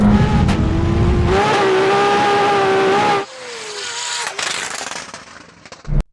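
A Lexus RC F drift car tuned to about 1200 hp and a McLaren Senna launch side by side at a drag race, engines roaring loud and steady with rising revs and wheel-spin noise before fading, ending in a brief burst of noise.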